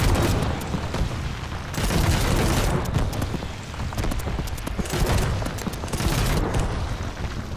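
Warship guns firing in Trailmakers during a sea battle between a submarine and a warship, a dense run of booming blasts that rolls on continuously with heavy low rumble and no pause.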